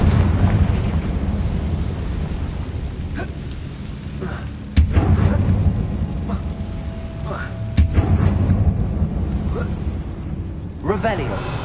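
A Confringo blast spell explodes in the Hogwarts Legacy video game: sharp booming bursts land around 5 and 8 seconds over a steady low rumble of game ambience, with a smaller burst near the end and a voice shouting the spell.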